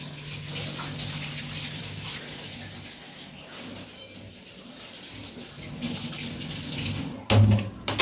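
Water is poured into an idli steamer pot, a continuous splashing gush that runs steadily for several seconds, eases slightly midway, then ends with a few louder clanks and splashes.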